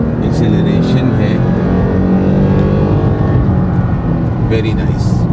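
A 2016 Toyota Tacoma pickup truck accelerates, its engine note rising steadily and loud throughout, close by, with someone talking over the sound.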